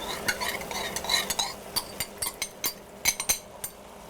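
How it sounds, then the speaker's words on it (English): A spoon or spatula stirs cornstarch sauce through a beef and snap pea stir fry, giving a run of close clinks and scrapes against the pan over a soft sizzle. "And then stir that in."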